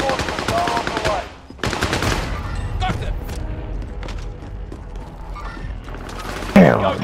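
Automatic gunfire in a Call of Duty Warzone match: dense bursts of rapid shots with booming blasts across the whole stretch, a brief lull partway through, and a loud crack near the end. Players talk over the shooting.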